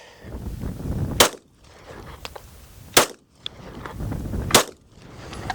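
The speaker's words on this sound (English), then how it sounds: "Now we'll try the Glock." A Glock pistol fires 115 grain FMJ range ammo, three sharp loud reports spaced about one and a half seconds apart, each with a short echo.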